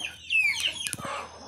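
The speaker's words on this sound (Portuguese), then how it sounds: "Aqui já é um frango." A young rooster, a large male chick with a saw-toothed comb, gives a short squawking cluck and then a few quick clucks. The calls are close and clear over quiet background in just over a second.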